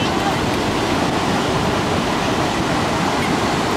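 Ocean waves surge onto the beach at Ocean City on the New Jersey shore, a loud continuous roar of surf mixed with wind buffeting the microphone.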